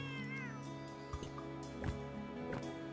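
A kitten in the Chicory video game gives a short meow near the start, followed by soft tonal game music and a few light clicks and taps, all fairly quiet.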